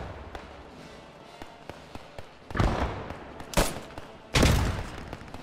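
Gunfire in the Squad 44 battle game, with scattered distant pops, then several loud close rifle shots and booming blasts echoing over a low ambient rumble.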